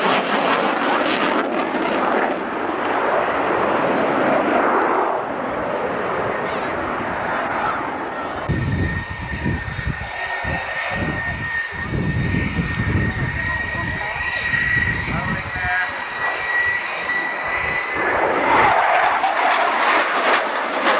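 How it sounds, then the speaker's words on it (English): A USAF swing-wing jet takes off with its wings swept fully forward at the 1991 Alconbury airshow, a loud sustained jet roar that rises and fades over about twenty seconds while someone talks over it. "You see the aircraft having taken off with its wings swept fully forward."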